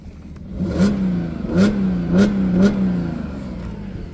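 A 2011 Audi A6 S-line Quattro's V6 engine revs up in four quick bursts over a steady idle, each rev rising and falling sharply, close and fairly loud.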